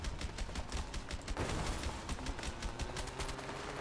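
Rapid SMG bursts in the video game A Way Out, dense continuous gunfire with mechanical clatter and sharp impacts, loud and close throughout with no talk.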